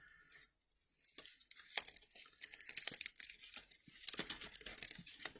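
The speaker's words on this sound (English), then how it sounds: "I just disconnected the tape from my cylinder." Paper tape is unwrapped from a cylinder, producing a close, continuous crinkling and tearing rustle with sharper rips here and there, quiet overall.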